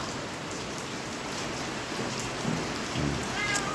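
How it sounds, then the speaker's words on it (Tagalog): Heavy rain pours steadily in a dense, hissing wash, with a couple of faint low knocks near the end. "Tapos ang lakas ng ulan guys."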